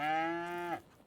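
A single long cow moo from the farming game Farming Simulator 22, clear and close, falling off abruptly at the end with no talk over it.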